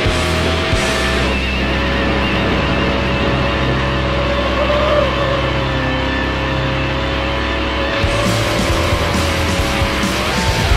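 Race car engines roar continuously and loudly in the NFS Hot Pursuit 2 racing game, a Ford and a Chevy dueling at high speed, with steady engine drone, shifting pitch and brief tire squeal.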